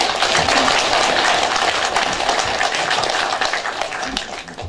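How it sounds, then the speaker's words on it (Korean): Audience applause at a televised candidates' debate for a Tongyeong-Goseong by-election, a dense wash of many clapping hands that holds steady and then slowly thins toward the end, with no voices over it. "두 후보님을 위해서 박수 한번 쳐드립니다."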